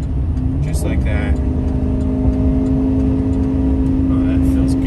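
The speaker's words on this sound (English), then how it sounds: "The engine just keeps pulling and pulling and pulling and pulling, and it, you know, all the way through 70 miles per hour." A GMC Sierra 2500HD engine drones steadily as it accelerates at highway speed at night, a constant low hum with a rising tone under someone speaking.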